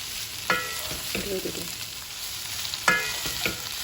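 Precooked pizza burger filling is stirred and reheated in a pan, a steady low sizzle broken by two bursts of scraping utensil strokes against the pan, close and clear with no talking.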